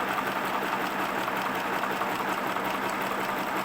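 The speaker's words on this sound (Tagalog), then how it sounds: "Ito lang po yung speed ng ating makina, ganyan lang po yung speed niya kasi nga portable na po ito." A portable sewing machine runs steadily at a modest speed while a tailor restitches a seam, its continuous whirring hum close and unbroken with no talk over it.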